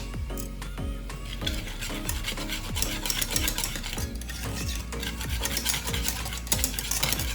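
A spoon stirs chocolate milk in a figure-eight motion, scraping and swishing against the cup in a steady repeating rhythm, close and fairly quiet with no talk.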